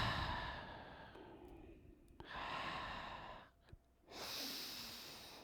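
Slow, deep breaths taken during a gentle yoga flow, long audible inhales and exhales rising and falling in close, fairly quiet waves with brief pauses between them, no talking.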